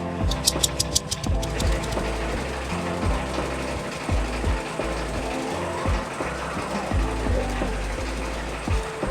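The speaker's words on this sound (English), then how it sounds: "my car runs on diesel." A 45-year-old diesel car engine runs with a rough, rhythmic mechanical clatter and repeated knocking pulses, close and steady, with a few sharp ticks at the start.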